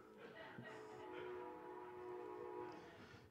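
A train passes nearby, a steady rumble with a drawn-out horn-like tone in the background and a faint voice under it.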